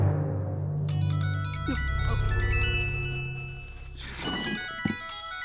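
A mobile phone rings inside a courtroom, its electronic ringtone playing a loud, bright melodic pattern that runs continuously and swells in bursts, with no speech over it.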